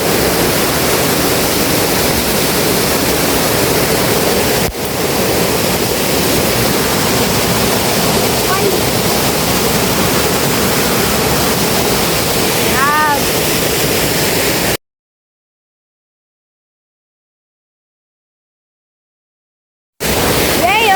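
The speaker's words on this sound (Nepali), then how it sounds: "साथीहरू झरना यही हो।" A steady, broadband rush of falling water roars continuously, then cuts to silence for about five seconds before the roar returns.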